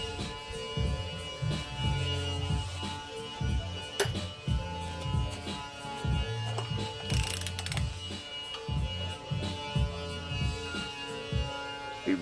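A ratchet socket wrench with a 6-point socket turns nuts on a motor project, giving rhythmic repeated bursts of dense pawl clicking with back-and-forth strokes, close and steady throughout, with no talking.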